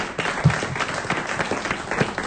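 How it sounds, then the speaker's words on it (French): A studio audience applauds on a French television talk show, a dense burst of many hands clapping throughout, fairly close and continuous. "Bravo, on vous applaudit."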